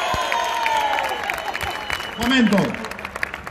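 Crowd applause at an event at the Ricardo Tormo racing circuit in Cheste, a rough clapping wash running under loud, excited talk that swells near the end.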